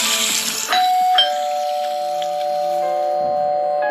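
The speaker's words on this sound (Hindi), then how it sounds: "डोरबेल बजते ही सांझ ने दरवाजा खोला।" A doorbell chimes twice, two clear bell tones, the second ringing out and slowly fading over a quiet background.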